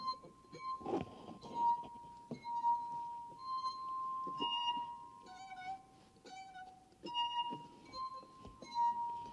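Drinking glasses holding different depths of water, with differing wall thickness, ring in a physics demonstration. A series of clear, sustained pure tones chime one after another, close and moderately loud.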